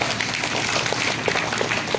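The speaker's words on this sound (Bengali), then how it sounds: "ভালো লেগে থাকলে ওদের জন্য একটা জোরে হাততালি হোক" Audience clapping for the cast after a staged Bengali drama performance, dense and sustained applause with a few sharper hand claps standing out, fairly near and even throughout.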